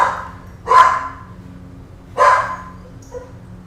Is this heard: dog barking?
yes